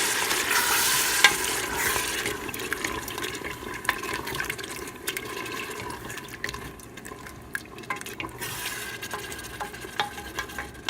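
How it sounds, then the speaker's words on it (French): Tomato sauce being stirred into green peas with meat in a pot makes a steady, close wet scraping and sloshing over a faint sizzle, with no talk. "je vais rajouter le sauce tomate. On va le mélanger."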